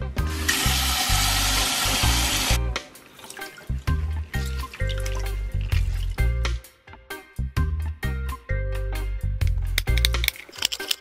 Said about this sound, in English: So we're gonna wash our meat.